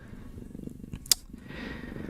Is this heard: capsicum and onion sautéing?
no